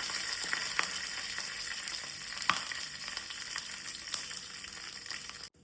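Curry leaves sizzle in hot tempering oil for a jackfruit bhaji, giving a steady close crackling hiss with a few sharp pops, and it cuts off abruptly at the end.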